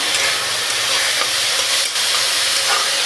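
Washed moong dal sizzles and hisses steadily in a hot pan as it is stirred, a close, loud, continuous frying noise with no talking.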